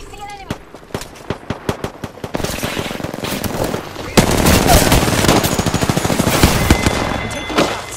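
Rapid gunfire crackles in Apex Legends, with sharp single shots at first, then sustained automatic bursts firing loud and close, while a player voice speaks in between.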